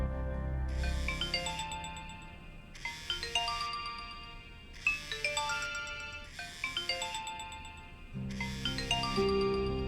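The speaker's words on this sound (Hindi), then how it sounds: "उठा लो ना यार कॉल।" A mobile phone ringtone plays a bright, repeating electronic melody for an incoming call. Four or five evenly spaced cycles ring out clearly over a low background hum, with no talking.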